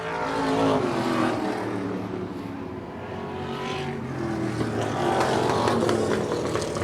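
Stock race cars roar past on an oval track on the final lap through turns three and four, a continuous loud engine drone with rising and falling pitch as the pack passes by.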